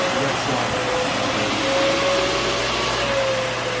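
The heater fan of a Can-Am X3 Turbo side-by-side runs in reverse, pulling air in with a steady, loud whooshing roar and a faint tonal whine over the full few seconds.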